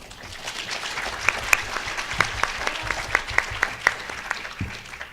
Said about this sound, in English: can we just get one round of applause?